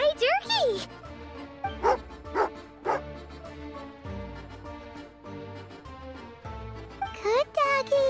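A dog in the Genshin Impact video game gives short yips and bow-wow barks in several bursts over game music, with a voice speaking between them.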